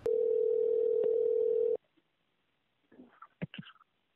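A telephone dial tone at the start of a phone call: a loud, steady hum for under two seconds that cuts off abruptly, followed by silence and a few faint clicks and brief scuffles.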